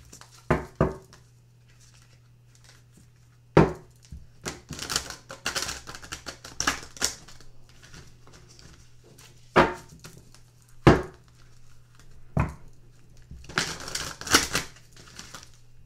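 Tarot cards are shuffled by hand, giving sharp clicking snaps and short bursts of rapid riffling patter over a low steady hum, close and intermittent.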